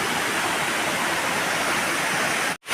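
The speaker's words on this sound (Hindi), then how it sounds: "3 से 4 स्टेप में झरना भाई नीचे गिरता है।" Waterfall near Indore tumbling down in three or four steps, a dense, continuous rushing roar heard close and loud, with a brief dropout near the end.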